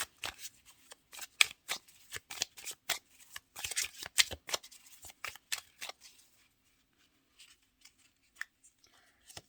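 Tarot cards being shuffled and drawn by hand, a run of crisp riffling and snapping bursts for about six seconds, then a few sparse soft card flicks, close and fairly quiet with no talking.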